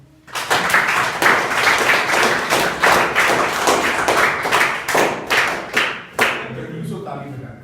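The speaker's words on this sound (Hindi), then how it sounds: "तो ताली बजाओ।" Schoolchildren at M S Public School in Azamgarh, Uttar Pradesh clap their hands together in loud, close, rhythmic bursts, the claps landing in a regular pulse that breaks up toward the end.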